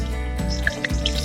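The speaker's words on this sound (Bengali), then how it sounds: "এখন আমি কড়ার মধ্যে দিয়ে দিচ্ছি তেল, সর্ষের তেল।" Mustard oil splashes into a wok in a brief, close pour, making a couple of wet drips and spatters over a low background hum, with no voices.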